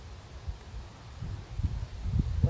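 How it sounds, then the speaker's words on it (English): Gusty wind blows outdoors in a garden beside a fence under repair. It comes as low, irregular buffeting rumbles that grow stronger and more frequent toward the end, with no voices. "The wind kind of a little high out here"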